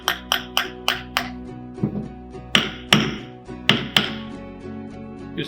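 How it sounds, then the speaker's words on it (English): Alignment pins tapped into the small holes of a dual firing head insert, a run of sharp, evenly spaced metallic taps, some ringing briefly, in quick clusters with short pauses, close and clear with no talk. "we'll tap the alignment pins in these two small holes at the top of this dual fire insert"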